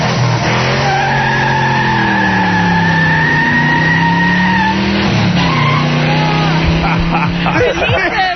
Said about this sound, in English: tape of William Shatner's car racing out of the